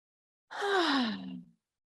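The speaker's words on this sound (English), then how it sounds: "Let's just take a deep breath in" A single deep breath, drawn in close and clear for about a second with a soft, airy rush that trails off, with no talking around it.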